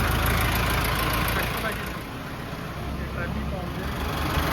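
A combine harvester arrives at a farm field, its engine giving a steady low rumble and idle throughout, with people talking over it.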